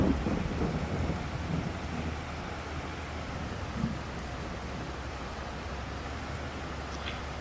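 Steady, dense rain hiss in Farming Simulator 22 that fills the whole stretch, with a faint low rumble underneath and no voices.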